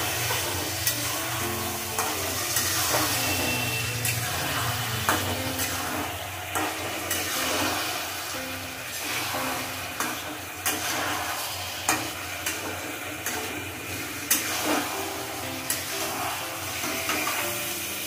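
Ginger and green chilli paste being sautéed in a pan for a ridge gourd and poppy seed dish: a continuous hissing fry broken by repeated spatula scrapes throughout.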